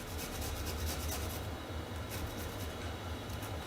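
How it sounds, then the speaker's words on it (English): Cheese being grated on a small handheld grater, close and continuous rasping strokes in a quick repeating rhythm. "I'm going to take my little cheese grater here"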